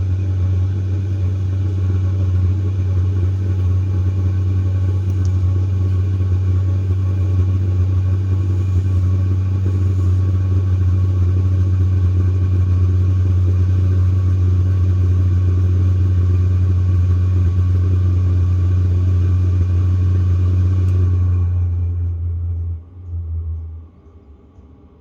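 Diesel air heater rated at 2 kW, fitted in a camper van, droning with a steady low hum and whir through its first fire-up, then winding down and cutting out near the end.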